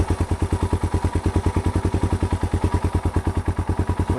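A Yamaha TW200 motorcycle engine with a leaking carburetor idling low after a jump start, giving a steady, even chugging pulse of rapid loud beats up close with no talking.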